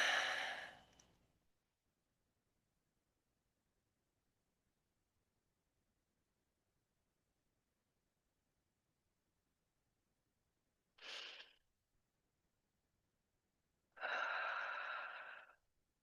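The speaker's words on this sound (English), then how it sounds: "And we start with a couple of deep breaths." Deep breaths during a morning meditation: a long exhale at the start, then near-silence, then a short inhale and a longer breath out near the end, close and soft, with no talking.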